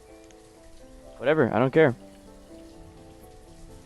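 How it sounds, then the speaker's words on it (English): Rain in the city-building game Banished, a soft steady patter under sustained in-game tones, with someone speaking briefly over it midway. "Please stop raining."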